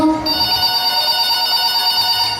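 A mobile phone rings loudly and steadily indoors in a home, its sustained electronic ringtone tones filling the clip alone without any talk.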